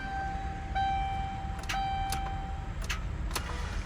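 A stalled car at a gas station fails to start, giving a few faint sharp clicks over a steady low engine-bay hum and a thin electronic warning tone, no voices.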